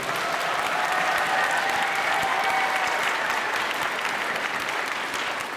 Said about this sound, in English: under the leadership of Principal Sayegh, let's give him a nice round of applause.